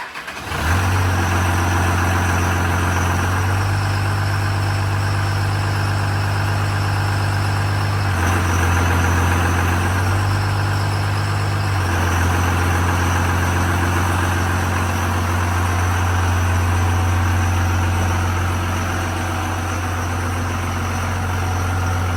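A Cummins diesel-swapped Squarebody truck drives along with a steady, loud low engine drone that shifts pitch as it revs up and eases off, continuous throughout with no voices.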